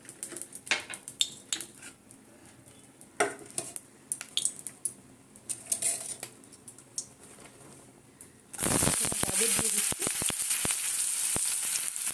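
Vegetables frying in refined oil in a wok: after scattered utensil clinks and clatter, a sudden loud, dense sizzle erupts and holds steady, close by.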